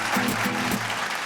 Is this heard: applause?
yes